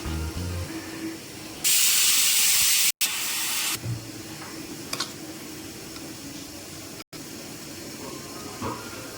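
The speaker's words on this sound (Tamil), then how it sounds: "தக்காளி சாம்பாரையுமே ரெண்டு விசில் வந்துட்டுங்க குக்கர் ஆஃப் பண்ணிட்டேன்" A pressure cooker on a home stove, cooking tomato sambar, lets off loud bursts of steam after its whistles: a strong, steady hiss for about two seconds, a short break, then a second shorter hiss, followed by quieter kitchen sounds.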